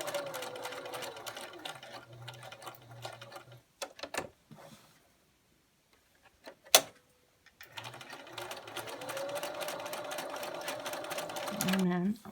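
A sewing machine stitches fabric for a clothes hanger cover, running steadily in close whirring bursts, stopping briefly with a sharp click as the needle sets down to pivot, then running again while a person talks over it.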